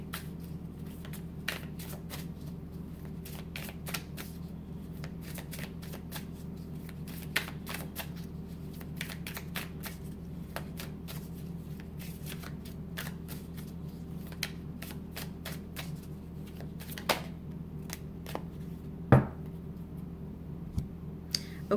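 Tarot cards shuffled by hand for a reading, a quiet, close run of repeated soft riffling flicks and taps over a low background hum.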